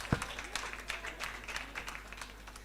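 Faint, sparse clapping from a small live-stream audience comes as scattered individual claps, quiet and a little distant, after one sharper clap at the start.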